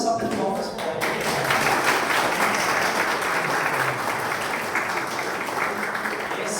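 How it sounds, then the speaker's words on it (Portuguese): Sustained, dense applause from a Secular Franciscan Order gathering honoring newly professed brothers and sisters, loud and steady throughout, with faint voices mixed in near the start. "Vamos dar uma salva de palmas para eles."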